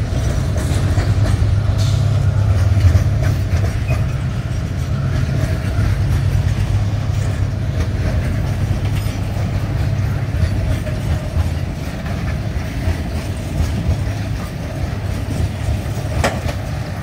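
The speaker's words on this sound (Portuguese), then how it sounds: "Esse trem aí tá com a formação de duas locos convencionais aí, ó, com a pintura da estrada de ferro Vitória Minas." A loaded freight train hauled by two conventional locomotives in Estrada de Ferro Vitória Minas livery rolls past with a steady, close, low rumble and rhythmic wheel clatter for the whole stretch, without talk.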